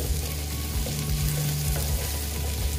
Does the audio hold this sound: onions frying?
yes